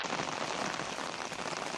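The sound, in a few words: rain falling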